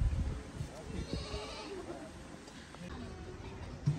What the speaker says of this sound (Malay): dekat sini ada dalam sekitar 100 lebih kambing yang akan disembelih pada Hari Raya Aidiladha